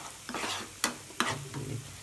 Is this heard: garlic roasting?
yes